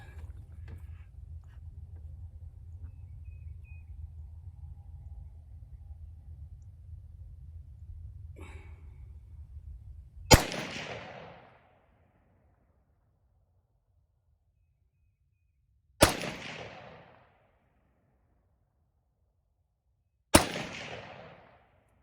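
Three sharp, separate shots from a 6.8 SPC rifle loaded with cast bullets and IMR 3031 powder, each a loud crack with a short decaying tail, after a stretch of low background rumble.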